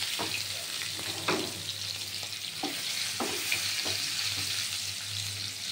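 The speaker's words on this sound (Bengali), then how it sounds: "এটা সুন্দর করে লাল করে ভাজা হবে" Potatoes frying in oil in a pan with a soft continuous sizzle, punctuated by several scraping stirs of a spatula, close and quiet with no speech.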